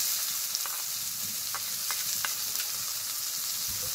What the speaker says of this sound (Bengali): পেঁয়াজটা দিয়ে খুব ভালোভাবে পেঁয়াজটাকেও ভেজে নেব